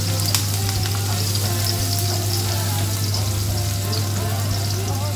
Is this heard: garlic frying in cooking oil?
yes